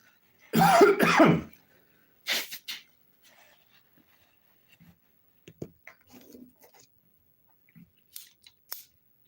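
A person gives a short burst of coughing and throat clearing near the start, followed by quiet, scattered small clicks and rustles in a mostly silent room.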